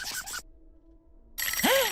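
A short burst of electronic telephone ringing, a pause of near silence, then a warbling ringtone-like tone starts up again, fairly close, in a cartoon.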